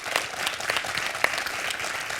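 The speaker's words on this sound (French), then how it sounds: "j'applaudis comme Eric" Studio audience applause on a French television quiz show, steady crowd clapping that fills the whole short stretch at an even level.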